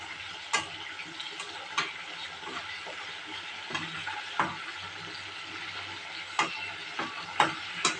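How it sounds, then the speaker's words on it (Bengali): Pieces of kebab fry in hot oil with a steady sizzle, broken by sharp intermittent clicks and taps scattered throughout at close range. "কাবাবটা করব পিস পিস করে, এবার তেলে ছেড়ে দেবো"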